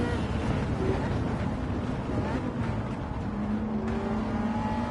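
A Ferrari F40 with a six-speed gated manual roars in a video game, its engine note rising and falling through revs and shifts, moderately loud and continuous.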